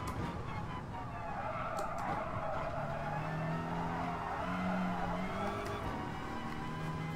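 Race cars in the GT Sport video game drone with a steady, layered engine tone that rises and falls while the driver blends the throttle. Faint tire noise sits under the engine throughout, and the car sound stays continuous without clear breaks.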